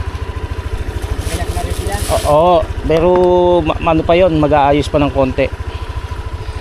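Motorcycle engine idling as it warms up, a steady low rapid putter running throughout while someone talks over it close by.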